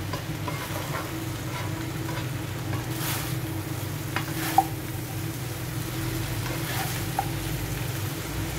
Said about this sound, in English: we need to keep on mixing so that all the ingredients will be cooked properly